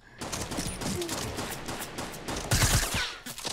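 Several rapid gunshots in the Fortnite video game, fired in a quick burst that stands out near the end over a busy, dense game soundscape.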